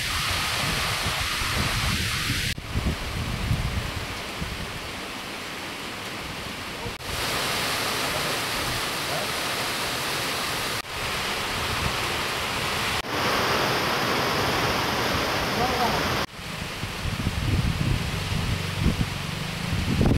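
Heavy rain pours steadily in a dense, loud hiss that continues throughout, with occasional low rumbles underneath and no voices.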